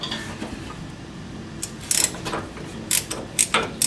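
A homemade tool undoes a stiff halfshaft nut on a Nuffield tractor. Soft mechanical background noise gives way to several sharp ratcheting clicks in short bursts, close by.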